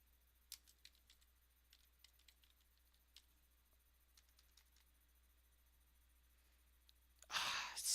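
Typing on an old computer's keyboard during an operating system install gives faint, sparse clicks and taps at irregular intervals, followed by a louder exhale near the end.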